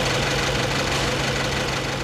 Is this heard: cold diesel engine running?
yes